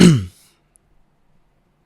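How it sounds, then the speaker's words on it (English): A man gives a single short throat-clearing cough up close, a quick rough burst followed by near silence. "That definitely felt like an indirect cough"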